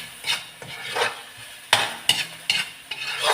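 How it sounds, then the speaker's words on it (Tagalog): Shrimp paste and vegetables for pakbet are sautéed in a pan, with several sharp spoon scrapes and stirring clatters over a soft, close sizzle. "Ginigisa ko lang muna yan guys."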